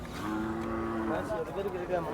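A Khillar cow moos nearby at the Sangola cattle market, one long low drawn-out call that wavers and rises toward the end, against faint background noise.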